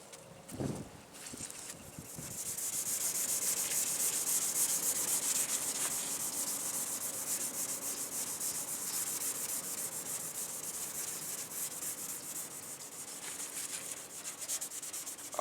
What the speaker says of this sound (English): I'm gonna use a maroon Scotch-Brite, just scuff it up, all this air.